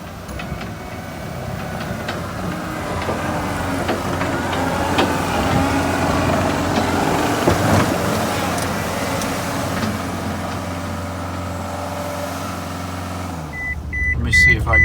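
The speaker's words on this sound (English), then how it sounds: "So I hear Briar coming on the skid steer now." Skid steer approaching at a construction company site, a steady rumbling engine and clatter building in loudness, with voices faintly underneath before it briefly cuts off near the end.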